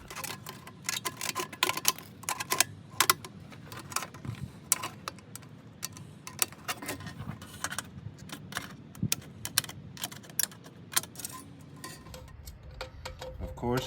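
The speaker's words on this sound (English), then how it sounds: "Just regular tin snips." Regular tin snips cut sheet tin for a hobo stove, giving a string of sharp close snips and clicks in an irregular rhythm, fairly quiet, over faint background noise.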